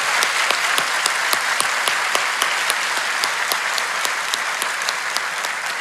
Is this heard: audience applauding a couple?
yes